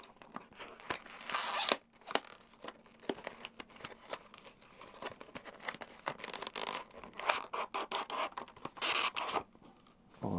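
Packaging around a Kodak X120 Pro SSD is torn open, giving close, quiet scratching, crinkling and tearing in irregular bursts with no talking.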